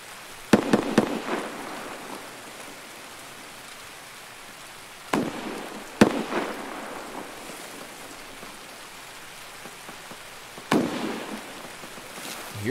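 Distant gunfire in the shooter game Escape From Tarkov arrives as scattered sharp cracks and short bursts in a few clusters, faint against a quiet background.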